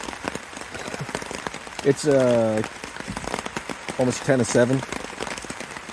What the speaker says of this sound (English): enjoying the sounds of the rain on the tarp